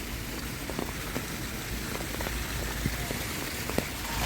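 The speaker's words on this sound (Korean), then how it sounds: "물이 아주 시원하게 콸콸 쏟아져 내립니다" Water gushes and pours down at Deoksugung Palace in Seoul, making a dense, steady splashing roar with scattered sharper drops. It is close and continuous, with no talking.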